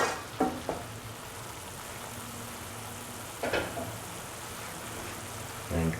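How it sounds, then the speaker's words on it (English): Crushed mustard seeds mixed and cooking in a pan, a faint, steady sizzle broken by a few brief scrapes and clinks of stirring near the start, middle and end. "Mix the mustard seeds which are crushed with the other mixture."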